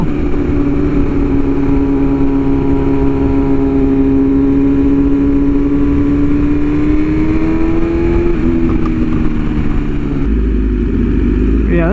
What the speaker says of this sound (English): Yeah, this bike feels super easy to ride.